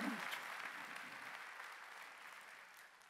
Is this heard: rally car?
no